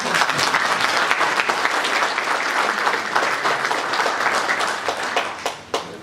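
Applause at a Liberal Party congress: a dense, loud crowd clapping that holds steady and then thins into a few last claps at the end.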